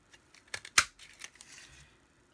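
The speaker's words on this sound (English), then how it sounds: "I do love the sound of our punch." A paper punch clicks through card on a craft desk, giving a few short, sharp snaps with one louder crisp punch among quieter taps and rustles, close and fairly faint.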